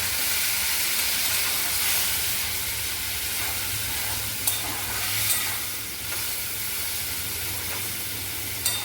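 Okra curry with mustard paste hisses and sizzles steadily in a pan after a splash of water, a close, continuous bubbling with a low hum underneath and a few sharp clinks.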